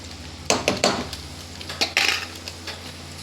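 Spoon scraping and clinking against a pan while stirring chicken fry with cumin powder and garam masala, several quick sharp metallic knocks in short bursts, close and otherwise quiet.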